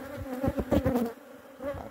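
Defensive honeybee swarm buzzing around a house, a dense, steady drone close by with a few louder surges as bees pass near, fading briefly before returning, with no talk.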